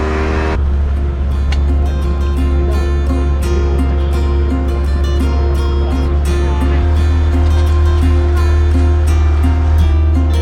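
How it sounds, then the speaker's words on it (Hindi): A motorboat ride on Fateh Sagar Lake in Udaipur, with a loud, steady engine drone and water rushing against the hull throughout, the motor pitch shifting partway through. "अभी हम लोग फतेह सागर लेक के बोट राइड पे चढ़े हैं"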